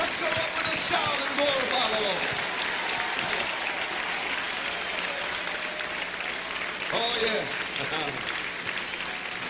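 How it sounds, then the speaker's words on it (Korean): A large church congregation at a mission conference evening service claps steadily and loudly, a dense continuous wash of applause with scattered cheers and voices mixed in throughout. "모든 성도와 기빈 여러분의 큰 박수 부탁드립니다."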